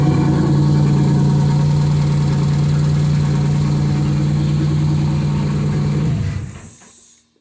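A turbocharged 3900 V6 in a Pontiac Fiero, just fitted with a new fuel pump and larger fuel lines, runs at a steady, loud, close idle for about six seconds, then shuts off and fades to silence.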